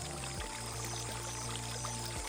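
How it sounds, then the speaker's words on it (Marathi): Clear spring water pours steadily and near, a continuous splashing stream running alone without pause for a couple of seconds. "हा आहे पाण्याचा झरा. एकदम स्वच्छ नितळ पाणी आणि हेच पाणी इथं भरलं जातं."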